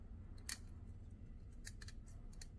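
Tin snips cut wire on a papier-mâché mask, giving one sharp metallic snip near the start and a cluster of quick clipping cuts later, close and fairly quiet over a low background hum.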